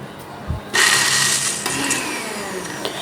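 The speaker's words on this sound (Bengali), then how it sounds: "ধীর গতিতে এটাকে ব্লেন্ড করব, একবার দিব 20 থেকে 30 সেকেন্ড হলে আবার বন্ধ করব।" A kitchen blender grinds boiled jackfruit seeds into a mash, starting abruptly after a brief knock and running as a loud, steady whirring motor for a couple of seconds alone.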